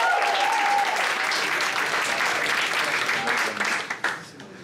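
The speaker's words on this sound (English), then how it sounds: "Give her a round of applause" Comedy club audience applauding loudly and steadily at a Cape Town comedy night, a dense wash of clapping that fades toward the end with a few last claps.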